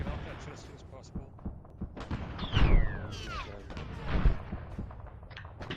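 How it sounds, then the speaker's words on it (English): Artillery fire lands close in a military video game, with heavy booming impacts and scattered gunshot cracks over a rumbling backdrop while players talk through it. "We're taking artillery fire that is, like, basically on top of us now at this point."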